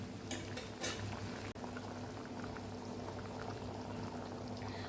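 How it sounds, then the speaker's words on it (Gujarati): A pot of chana dal curry bubbles and simmers steadily on the stove, a continuous soft boiling texture with a brief clink near the start. "હવે આપણે આને વાર ઉકળવા દઈશું"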